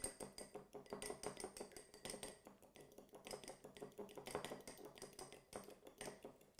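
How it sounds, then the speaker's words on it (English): An egg is whisked briskly in a bowl for meatballs, giving a steady run of fast, clinking metal-on-bowl taps with short pauses, close and fairly loud, with no talking. "we've got an egg, which I am going to whisk up real quick"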